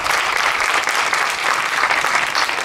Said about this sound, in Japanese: この驚異のベースソロをもたらしてくれた増田海人さんに大きな拍手を。